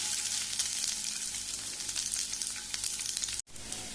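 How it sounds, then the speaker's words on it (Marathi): Garlic and onion fry in hot oil in a pan for Goan-style mushroom tonak, a close, steady crackling sizzle with a brief cutoff near the end before the sizzling resumes. "तो तापला म्हणून भितर इल्लेशें तेल घातला। तातूंत घालता लसूण, एक घेतला कांदो।"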